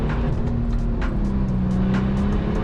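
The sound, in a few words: V6 pickup truck accelerating in a quarter-mile drag race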